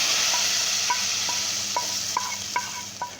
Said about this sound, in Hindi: फ्राई पैन में थोड़ा सा ऑयल, 5 से 6 अदद साबुत लाल मिर्च, ज़ीरा आधा चम्मच और 10 से 12 अदद कड़ी पत्ते फ्राई करें